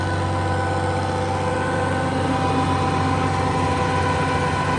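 Red 1206 tractor engine running under load on a dynamometer at low RPM, a constant dense diesel drone with steady rumbling harmonics, loud and close with no talk.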